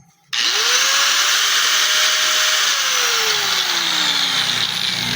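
Angle grinder powered through a power inverter whines steadily and loudly for about five seconds after a sudden start, its pitch rising as it spins up and then sagging slightly near the end, with no talking.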